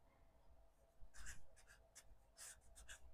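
A pen scratches out the letters CF on fabric tape at a sewing table: a few quick, close, dry scratchy strokes in short bursts over a quiet room, with no voice.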